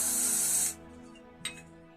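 Spray bottle misting alcohol in one steady hissing burst of under a second, then a short faint click as the trigger releases, close and alone.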